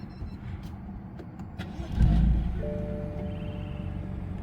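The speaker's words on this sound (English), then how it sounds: "So when we actually start the car," A car with 72,000 miles on it cranks and fires up about halfway through, with a brief low rumble before it settles into a steady, smooth idle, close to the listener.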